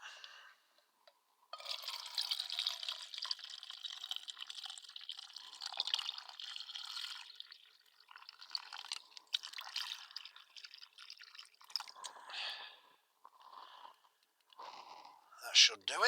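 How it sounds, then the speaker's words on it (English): Water pours into a cooking pot at a winter wild camp while backpacking, a steady broadband splashing rush that runs for most of the clip, then thins into scattered drips and small knocks near the end. "get some water in the pot."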